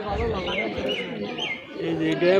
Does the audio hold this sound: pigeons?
yes